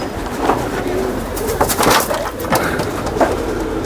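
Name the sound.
Sialkoti pigeon cooing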